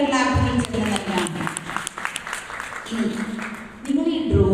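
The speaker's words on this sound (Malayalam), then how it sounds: "ഒരിക്കൽ കൂടി നല്ലൊരു ക്ലാപ്പ് ടീച്ചറിന് നൽകാം." Audience applause for a teacher at a school staff celebration, a broad wash of clapping running under and between speech across the whole stretch, fairly loud and steady.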